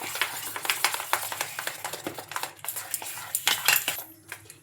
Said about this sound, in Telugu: ఇంకా ఇవన్నీ వేసుకొని మొత్తం బాగా కలుపుకోవాలి